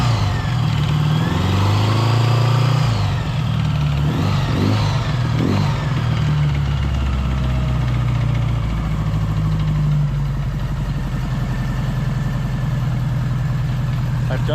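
A 1977 Honda GL1000 motorcycle engine idling cold, a steady close-up low drone with a brief rise in revs early on, and someone talking over it.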